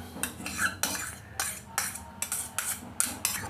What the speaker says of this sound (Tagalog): Saka natin haluin to ngayon para mag-well combine yung ating nilagay na ingredients.